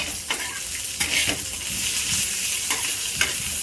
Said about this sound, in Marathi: आणि थोडस तेल सगळं चांगलं मिक्स करून घ्यायचं